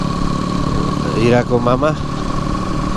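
Several motorbikes carrying a group of eight friends ride toward Barpak on a snowy outing, their engines a steady, close drone running beneath loud conversation throughout.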